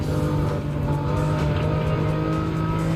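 Porsche race car in Gran Turismo 7 holding a steady, loud engine drone throughout, with a constant tonal hum and no clear passes or gear changes.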